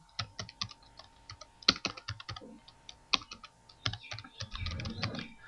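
Fingers type on a computer keyboard, a fast irregular run of crisp key clicks with short pauses between bursts, close and clear, ending in a brief softer rustle.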